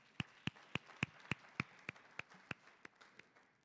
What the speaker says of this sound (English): Applause for Mr. Nyimipini.